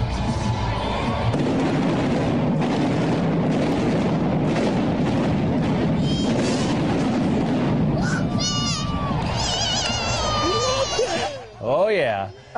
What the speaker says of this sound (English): big, booming explosions, coupled with a broad range of brilliant colors streaking across the sky